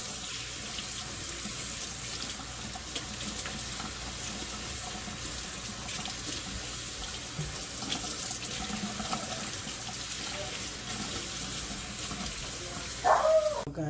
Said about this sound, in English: Make sure I wash the soap off really well, and I'm using cold water.